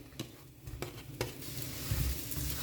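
Garlic and shredded chicken are fried and stirred in a pan, giving a soft steady sizzle broken by a few sharp scraping stirs and clicks, faint and close with no voices.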